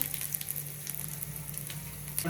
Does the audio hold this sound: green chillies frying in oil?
yes